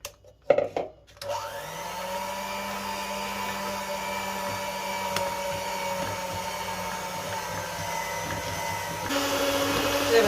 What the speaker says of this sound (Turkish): arkadaşlar böyle çırpıyoruz